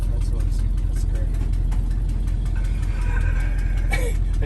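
An old motor home that sat unused for 13 years idles with a steady, loud, low engine rumble, and a voice talks over it.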